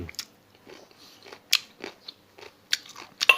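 Close, crisp crunching and biting as someone tastes Thai green papaya salad dressed with fermented crab sauce, several sharp bites spaced irregularly with quieter chewing between.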